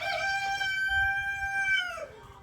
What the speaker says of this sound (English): Rooster's gonna talk.